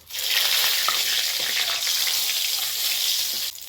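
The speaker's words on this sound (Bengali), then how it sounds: "এখন তেল গরম হয়ে গেছে এই যে ফোড়ন দিয়ে দেবো" A sudden, loud hiss of spices hitting hot oil, sizzling steadily and evenly for a few seconds before easing off at the end.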